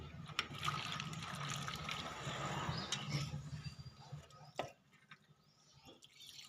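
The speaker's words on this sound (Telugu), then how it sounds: "కొంచెం ఫ్రెష్ వాటర్ పోసుకొని ఇక పారబోసి ఇక చేయడమేనండి" Fresh water poured over boiled raw peanuts and then drained off: a steady rushing, dribbling wash of water that fades after about four and a half seconds into faint trickles.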